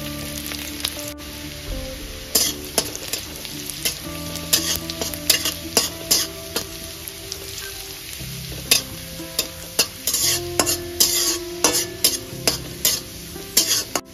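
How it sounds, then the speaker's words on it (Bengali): Chopped ginger and garlic sizzle in hot refined oil over a low gas flame, a steady close hiss broken by frequent sharp scrapes and taps of a spatula against the pan. "প্রথমেই দিলাম আদা কুচি, তারপর দিয়ে দিলাম রসুন কুচি।"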